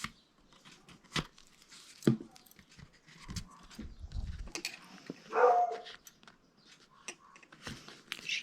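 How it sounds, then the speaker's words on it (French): Several dogs bark in short, scattered bursts at varying distances, some sharp and close, others fainter, over a quiet background. "désolée pour tous ces chiens qu'aboient"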